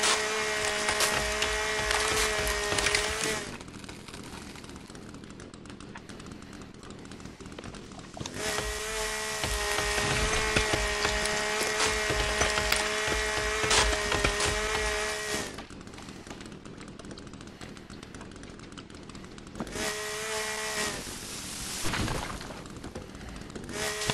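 A chainsaw cutting trees in the video game The Forest, with a loud buzzing, whining motor in three long bursts separated by quieter idling stretches.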